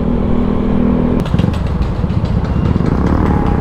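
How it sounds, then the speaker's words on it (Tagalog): Motorcycle and engine noise of road traffic on the Daang Maharlika highway toward Nueva Ecija, a steady loud rumble with a passing engine whine and clatter, no talk. "So medyo traffic dito."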